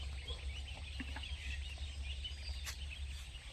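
A large flock of domestic ducks, about 119 birds, calls on a farm, with scattered quacks and clucking sounds over a constant low rumble of background noise.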